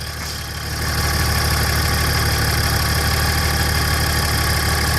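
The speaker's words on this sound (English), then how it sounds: "It's just running at idle right now at about 750 RPM" A 2007 Dodge Ram with the 5.9 Cummins diesel idles at about 750 RPM while driving a York 210 onboard-air compressor, giving a loud, steady, close-up drone with a constant low hum and a dense mechanical whir.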